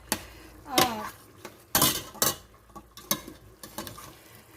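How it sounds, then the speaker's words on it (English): Ground beef browning in a pan for goulash, fried until its liquid cooks off: a soft sizzle sits under repeated scrapes and clinks of a utensil stirring against the pan, in irregular bursts close by. "you're going to want to fry this meat until all the liquid is gone."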